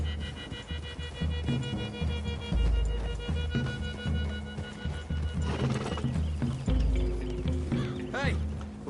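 Horses are ridden through trees in Red Dead Redemption 2, with steady clip-clopping hoofbeats, an occasional whinny and snorting, all under background music and sporadic voices.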